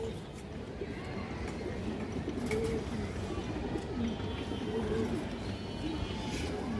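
Pigeons in a fancy-breed loft, with faint soft cooing over a steady low background hum, fairly distant and quiet throughout.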